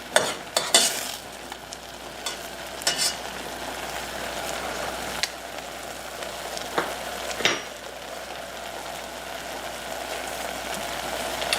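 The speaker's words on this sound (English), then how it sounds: "Okay, these peas are boiling away here." Peas boiling in a pot on the stove, a steady bubbling and hissing with occasional louder pops and clinks near the start, heard close and alone.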